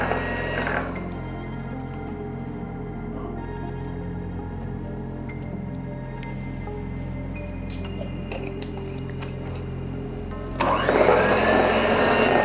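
An electric mixer beats whipping cream for a pudding with a steady, close motor hum and faint clinks, growing louder and rougher near the end.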